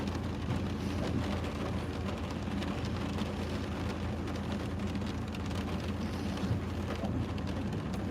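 Rain from Storm Eunice pours steadily outside while someone drives a modified Vauxhall Astra, a dense, even rushing wash lasting several seconds with low rumble beneath and no talking.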